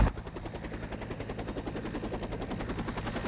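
A police helicopter flies over coastal wildfires in Montenegro. Its rapid, steady rotor chop stays loud and close for the whole stretch, with no voices.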